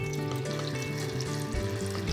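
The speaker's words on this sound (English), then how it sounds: "The next stage is to give the film a good wash under running water" Developed black and white film rinsed under steady running tap water, a continuous close splashing rush with no voices.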